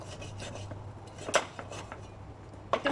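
A knife chopping through large chicken feet on a board in a kitchen, several sharp knocks and clinks at uneven intervals, fairly quiet and close.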